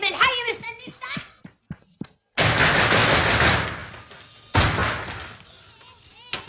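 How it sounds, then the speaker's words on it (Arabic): Loud, heavy thuds pound on a door in a quick burst, then two long, rough runs of banging follow with short gaps between them, and no voices are heard. "عمال تهبد على الباب"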